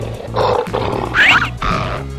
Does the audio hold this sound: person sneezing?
no